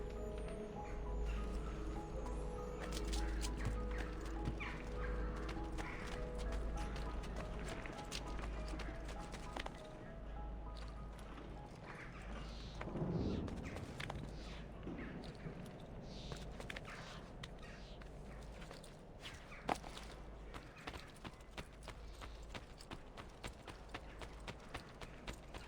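Horse hooves clip-clop in steady rhythm through a game scene in Assassin's Creed 2, riding under a dense bed of music and ambient noise, with a few louder thuds and a brief swell midway.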